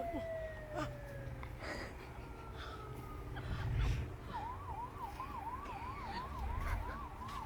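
A distant siren wails through traffic noise on a village road, with a rising-falling yelp pattern emerging partway through, faint and mixed with engine rumble.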